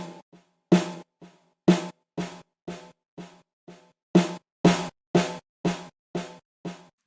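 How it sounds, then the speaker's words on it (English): A snare drum run through a Kontakt Replica delay plugin fires repeated sharp hits, each followed by softer delayed echoes, in a loud rhythmic pattern without voices. "So you can hear that more of that delayed signal is applied whenever I increase that knob."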